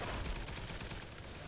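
Rapid gunfire from Call of Duty Ghosts Extinction, Nightfall map: a dense, steady burst of shots rolling on for the whole moment, loud and continuous with no voices over it.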